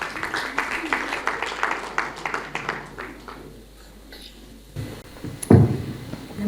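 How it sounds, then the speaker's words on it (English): Applause for a speaker at a Deepavali celebration in Tongaat: a crowd claps for about three seconds, then it fades out into room noise and a few soft knocks and thumps. "A round of applause for her."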